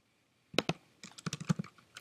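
Close, quiet clicks of a computer keyboard as an email address is typed, an irregular burst of keystrokes after a brief silence.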